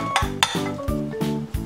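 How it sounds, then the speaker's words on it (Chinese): Chunks of cut radish tumble into a pot of beef soup holding onion, tomato, oxtail and beef offal, making repeated clattering, knocking impacts against the pot in quick succession, close and fairly loud. "倒入切好的萝卜块"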